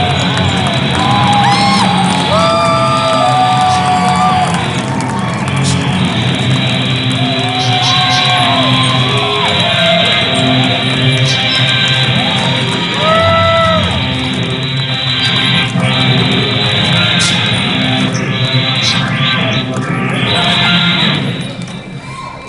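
A large audience at a cosplay contest cheers, whoops and yells loudly and continuously for a contestant, the crowd noise dense and sustained throughout before tapering off at the end.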